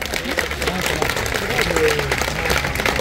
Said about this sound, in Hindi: उसके लिए तालियां बजाएं।